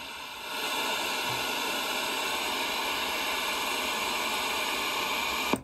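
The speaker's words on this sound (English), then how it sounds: "So now I'm going to turn on some white noise and it will amplify it." White noise fed through a clean boost guitar pedal gives a steady, loud broadband hiss that rises after a short quiet start and holds evenly, ending in a small click.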